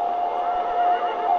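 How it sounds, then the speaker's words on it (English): Horses neighing in the video game Beyond: Two Souls: a steady, sustained whinny-like tone holds over a dense mid-range wash, loud and continuous for its short length with no talking. "I hear horses. I hear them."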